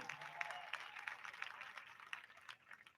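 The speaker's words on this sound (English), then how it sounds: "so clap that up" Graduates at a high school graduation practice clap together in a faint, distant, steady patter of applause in a large room, tapering slightly toward the end.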